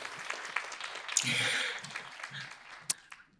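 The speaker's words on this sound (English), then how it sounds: "Let's do one applause." A short burst of clapping from a small audience at a Jean Monnet Actions presentation, with a speaking voice heard before and after it.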